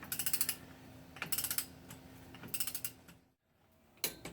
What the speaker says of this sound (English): It's all torqued to 50 foot-pounds of torque.